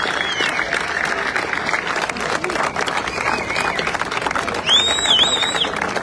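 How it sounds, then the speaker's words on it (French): Crowd applause and cheering at the finish of the Bol d'Or motorcycle endurance race, a dense, steady roar of clapping with some whistles, loud and continuous throughout. "tonnerre d'applaudissements pour une équipe qui est toujours là pour ses chances"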